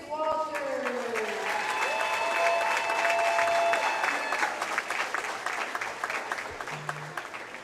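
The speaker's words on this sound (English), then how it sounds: "Everyone, please give a round of applause for senior basketball player number 24, Lucas Walters." Gym crowd gives a round of applause for a senior basketball player, clapping rising quickly and sustained for several seconds before tapering off, with a brief voice at the start and scattered shouts over it.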